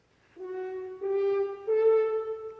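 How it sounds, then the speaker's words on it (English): Three sustained tones rise one step at a time, each held briefly, clear and close with no talking. "a string of 3 notes in their ascending order of the scale"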